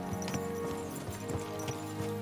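Horse hooves clip-clop in a steady trotting rhythm over a constant low rumble and a faint background tone, in the video game Kingdom Come: Deliverance II.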